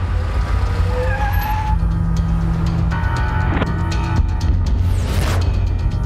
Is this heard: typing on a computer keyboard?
no